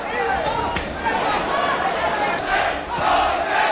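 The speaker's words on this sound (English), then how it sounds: "Crowd taking up a chant of Jose." A boxing arena crowd chants the name Jose in loud rhythmic pulses, a dense roar of many voices that rises and falls.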